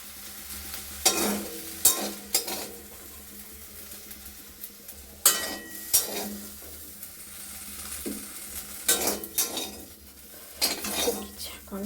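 Fish masala spices being sautéed and stirred in a pan, with repeated scraping and clattering strokes over a steady low sizzle, close and fairly quiet.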